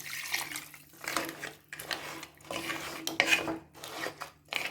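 Water poured into a pan of crab masala gravy, a steady splashing pour with clattering pot and utensil sounds, close and fairly loud, with no talking.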